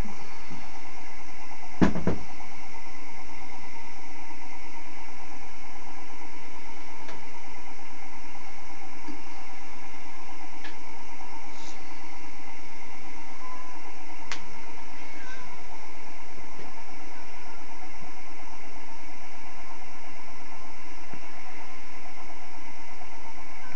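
An experimental Bedini three-phase DC pulse motor spins steadily with a constant faint hum and whir, plus a sharp click near the start and a few light ticks, with no voices.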